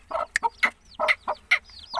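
Khalis breed chicks peep in high, rising chirps while a hen clucks in short low bursts nearby, a busy irregular back-and-forth of calls heard close with no talking.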